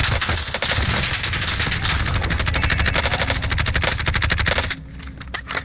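Rapid automatic gunfire in a Call of Duty match, loud and dense bursts of overlapping shots rattling almost continuously for several seconds before cutting off near the end.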